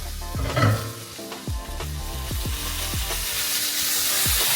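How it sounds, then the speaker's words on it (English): Brussels sprouts sizzling in a pan with ginger sesame dressing, a steady loud fry with bursts of sputtering and repeated scraping strokes of a utensil stirring through the pan. "ginger sesame dressing onto it so that it can cook into the Brussels sprouts, giving it more flavor"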